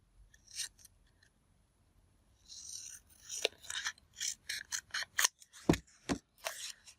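Scissors snipping through cardstock while trimming tags and cards, a near series of crisp separate cuts that pick up pace in the second half after a quiet start.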